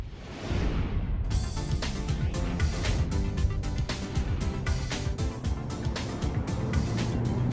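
A 2005 Mercedes-Benz SLK55 AMG roadster driving, a loud continuous engine and road roar that swells in after a brief fade-in, with rushing wind noise and steady tire hum.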